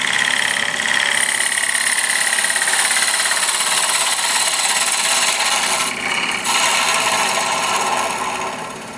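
A wood lathe spins a wooden faceplate at about 800 RPM while a turning tool is pushed into the outside edge. A loud, steady, close rasping cut with a high whine runs throughout, briefly dipping near the end, with no voices.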